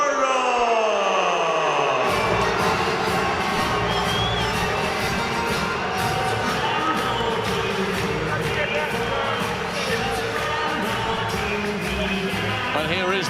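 A boxing arena crowd for a bout between Scott Cardle and Sean Dodd, cheering and roaring loudly and steadily as the champion walks in. A dense wall of voices rises just after a rumbling intro and keeps going for the whole stretch.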